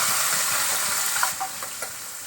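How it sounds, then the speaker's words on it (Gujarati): A prepared spice paste hits hot oil in a pan for tempering, giving a loud, close, steady sizzle that softens toward the end, broken by a few small pops and crackles. "ત્યારબાદ આપણે જે આ પેસ્ટ રેડી કરીને રાખી છે એ પેસ્ટનો વઘાર કરી નાખવાનો છે"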